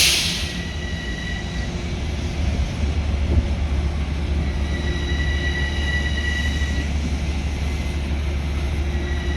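Inside a Metro-North Hudson Line inbound express train, a steady low rumble of wheels on track fills the car, with thin metallic squeals drifting in and out over the constant rolling drone.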